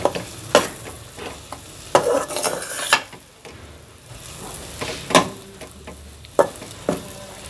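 Semolina roasts in a pan for makhadi halwa while a spoon stirs and scrapes it, making repeated sharp clinks and scrapes in an irregular rhythm over a soft sizzle, close by.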